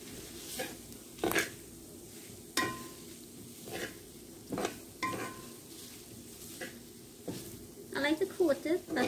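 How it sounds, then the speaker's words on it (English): Tofu in barbecue sauce sizzles softly in a pan while being tossed, with repeated bursts of scraping and clattering from the utensil against the pan and a busier flurry of stirring at the end. "Add a little bit of sauce and toss it around"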